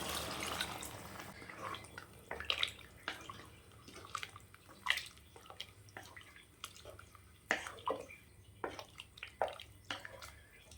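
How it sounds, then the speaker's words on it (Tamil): Water added to a pressure-cooker pot of mushroom biryani, heard as faint, intermittent splashes and trickles with scattered clinks, quiet and close throughout the stretch, no voices present. "தண்ணி சேர்த்துக்கலாம்"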